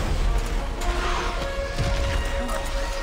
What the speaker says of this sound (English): Oh, that was an explosion.